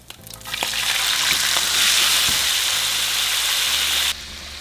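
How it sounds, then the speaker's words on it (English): Beans refry in hot oil, a loud sizzle swelling up quickly and holding steady, then dropping suddenly near the end, with a low hum beneath. "so now we're going to use the oil to refry our beans."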